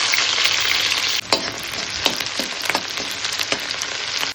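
Onion frying in a pan with a loud, steady broadband sizzle that drops slightly as it is stirred, with several scraping stirs and clatters spread through the sizzling.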